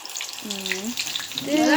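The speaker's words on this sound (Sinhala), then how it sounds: "තෙල් ඉසිත් වෙනවා" Oil sizzling and spattering in a pan as barley is fried, a soft hiss that swells louder toward the end, with a faint tonal whine early on.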